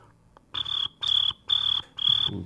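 A voice imitates a cricket chirping, producing four shrill, even trills separated by short pauses, close and clear with nothing else behind them.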